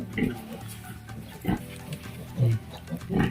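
Pigs on a pig farm grunting and oinking in short close bursts, several snorts spaced through a few seconds over low barn noise.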